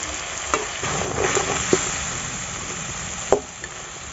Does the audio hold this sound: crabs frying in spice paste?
yes